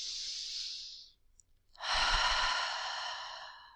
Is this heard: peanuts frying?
no